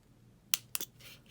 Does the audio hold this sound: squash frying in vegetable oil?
no